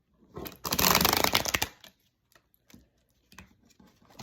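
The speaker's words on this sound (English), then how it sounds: "Let's give it another shuffle, I feel." Tarot cards are riffled and shuffled by hand in a brisk burst of dense, crisp flapping lasting about a second, followed by a few scattered soft taps and card handling sounds.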